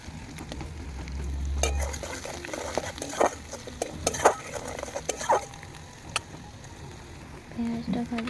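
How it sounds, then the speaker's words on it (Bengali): Chopped onions with bay leaf fry and sizzle steadily in a pan, with repeated scraping stirs and small clatters up close, while a voice speaks over the cooking. "পেঁয়াজটা ভালো করে ভেজে নেব।"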